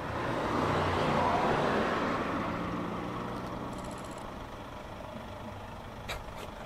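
Road vehicles rush past at speed, a broad roar of traffic swelling early and then easing into a steady wash of passing cars and heavier vehicles, fairly distant with no voices.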